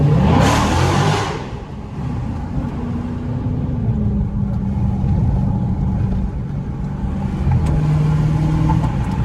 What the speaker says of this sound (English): I know y'all missed that V8 roar.